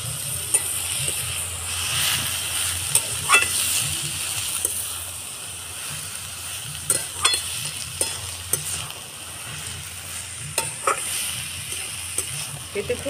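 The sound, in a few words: stirring ash gourd with roasted coconut in pan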